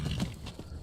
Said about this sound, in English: Why is my horse running into combat?